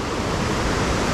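A steady, dense roar of rushing water from a waterfall near Nuwara Eliya, Sri Lanka, fills the clip, loud and unbroken with no voices.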